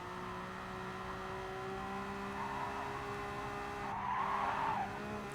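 A race car in a street car challenge climbs a mountain road, its engine droning steadily before tires scrub and squeal loudly for about a second as the back end swings around.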